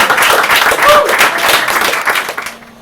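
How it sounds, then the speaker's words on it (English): An open-mic audience applauds after a poem performed in reading and Irish Sign Language. The clapping is loud and close, pulses unevenly, then thins out and stops just before the end. "Give a huge round of applause for Nuala!"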